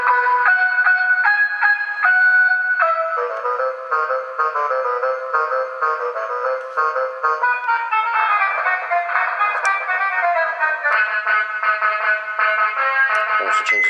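A WOLO 336 electronic jukebox horn, played through a Pyle PA speaker, plays a string of bright, beeping melodies, switching between tunes in a steady, loud stream with no talking.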